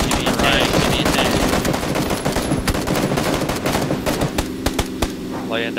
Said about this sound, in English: Laying down suppressive fire so we can make it.